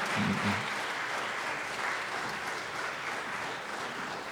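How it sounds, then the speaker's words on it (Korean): An audience claps warmly at a university president's inauguration ceremony, a dense sustained round of applause filling the hall from start to finish. "뜨거운 박수로 축하해 주시기를 바랍니다."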